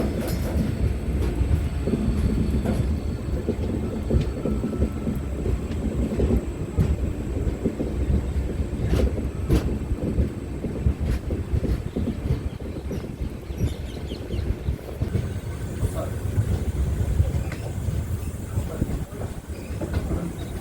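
The Venkatadri Express on the Chittoor to Tirupati run, a passenger train hauled by a WAP-7 electric locomotive, makes a continuous heavy rumble from inside the moving carriages, with rattling and occasional rhythmic clacks of wheels over rail joints.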